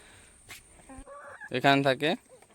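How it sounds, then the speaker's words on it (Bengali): Egg-laying hens cluck in short bursts, with a faint call followed by a louder run of clucks close by, alone without talk. "আমার ডিমের মুরগিগুলো তো এখানে থাকে"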